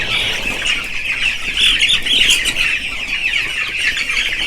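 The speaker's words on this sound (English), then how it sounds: "I'm just gonna take a walk around my brooder and see how my chicken are doing." Broiler chickens in a brooder, about three weeks old, give a dense, steady chorus of chirps and squawks close by, with occasional wing flutters and no talking.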